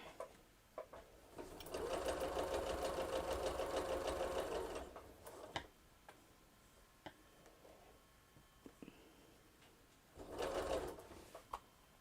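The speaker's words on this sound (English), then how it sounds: "we're going to go ahead and sew these together" A sewing machine runs steadily for about three seconds while quilt squares for a Triple Irish Chain block are stitched together, then stops, with faint clicks and handling noises before a second short burst of stitching near the end.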